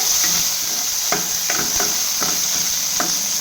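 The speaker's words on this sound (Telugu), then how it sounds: "అవి వేగిన తర్వాత కారానికి తగ్గ పచ్చిమిర్చి వేసి వేయించాలి." Green chillies frying in oil for a ridge gourd tomato chutney, with a loud continuous sizzle and several rhythmic scraping stirs of a ladle against the pan.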